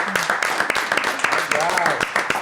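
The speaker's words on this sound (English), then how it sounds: "big round of applause for R&R Estates" Applause from a small audience at a podcast recording for R&R Estates, a brief burst of scattered, close claps with cheering voices mixed in.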